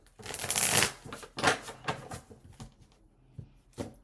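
A fresh deck of tarot cards shuffled by hand, with a long dense riffle of papery rustling at the start, then shorter bursts and soft taps of cards being squared, close and fairly quiet.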